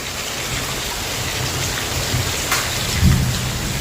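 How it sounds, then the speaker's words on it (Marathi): Heavy afternoon rain pours in a dense, constant hiss with a low rumble of thunder near the end, steady and fairly loud, with no voices. "आता दुपारनंतर पुन्हा पाऊस सुरू झाला बघा ढगंसुद्धा गडगड येईल"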